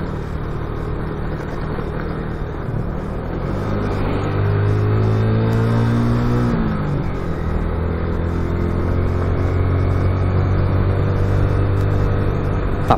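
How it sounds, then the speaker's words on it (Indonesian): A truck passes on a mountain road at night, a loud low engine rumble that swells and shifts pitch as it goes by, steady and close, with no one talking. "Ada truk lewat."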